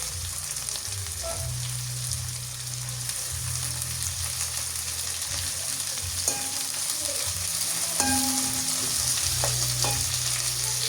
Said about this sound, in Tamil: இப்போ நாங்கள் ரொம்ப கருவேப்பிலை அதில் சேர்த்துக்கொள்வோம்.